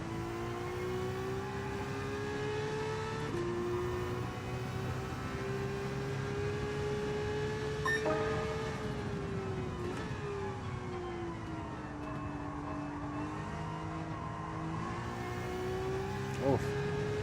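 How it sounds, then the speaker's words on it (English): A race car engine in the video game Gran Turismo 7, a steady whining drone that rises and falls in pitch as the car speeds up and slows down, running without a break. "I love the sound of this car."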